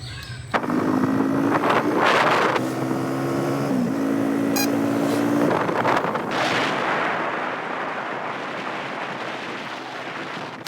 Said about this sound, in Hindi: अभी अब्बू जी बाइक को निकाल रहे हैं जी बाहर